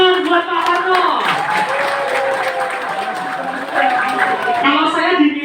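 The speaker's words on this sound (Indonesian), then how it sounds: "tepuk tangan buat Pak Tarno." Audience clapping at an Indonesian motivational seminar, a steady wash of applause mixed with crowd noise and a voice speaking over it throughout.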